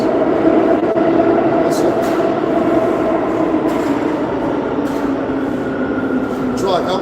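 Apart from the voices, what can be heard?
train passing by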